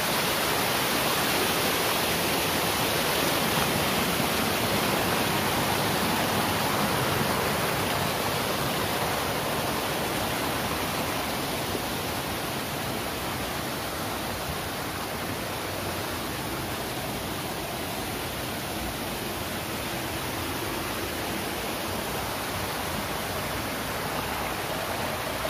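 A waterfall pours in a steady, dense roar of falling water, broadband and continuous throughout, with no talk over it.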